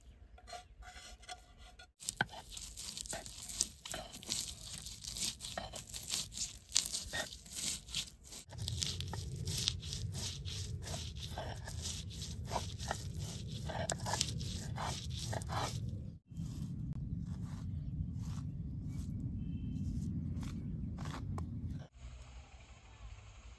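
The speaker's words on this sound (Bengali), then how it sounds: "দুইটা কাঁচামরিচ দিছি, এখন অল্প শুকনা মাছের গুঁড়া দিব" Chopped green chillies and dried fish powder are ground by hand, producing continuous close rasping and scraping strokes, steady and rhythmic, with a brief pause near the end.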